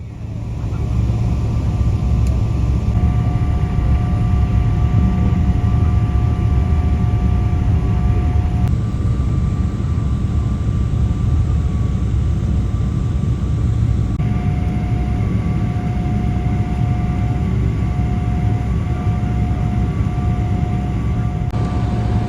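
Qatar Airways airliner taxiing at Doha airport beneath the Sky Bridge, heard from inside the cabin as a loud, constant engine drone with faint steady tones and occasional shifts in the hum.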